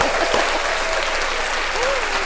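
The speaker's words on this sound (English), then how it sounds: "I got the applause" Audience applause, a dense burst of clapping filling the whole short stretch with some voices mixed in underneath.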